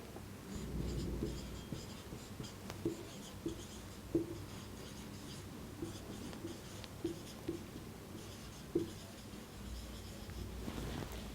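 A pen scratches quietly across paper while a fraction is written out by hand, soft strokes with a few small taps, no voices.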